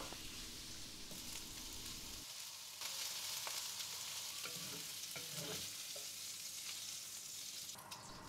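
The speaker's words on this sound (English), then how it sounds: "I will fry the prawn first for a couple of minutes and set it aside" Steady crackling sizzle of prawns frying in hot oil, continuous and fairly quiet, with occasional small stirring clicks and no voices.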